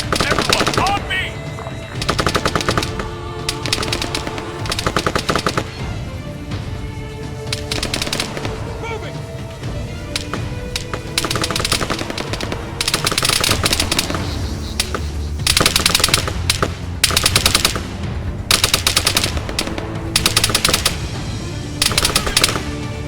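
Sustained machine gun fire in the military shooter Arma 3, with loud rapid bursts repeating in clusters over a background of battle noise and intermittent shouted squad commands.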